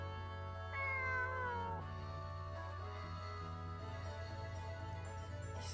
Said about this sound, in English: Is that supposed to be a cat?